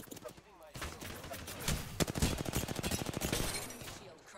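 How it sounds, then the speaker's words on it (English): Rapid automatic gunfire from the battle royale shooter Apex Legends, dense bursts of shots rattling continuously for several seconds, loud and close, with a voice speaking over part of it. "Getting shot at."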